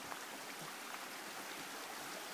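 Small streams trickle and burble steadily through lush New Zealand West Coast rainforest among trees and ferns, a soft, even wash of running water with no voices.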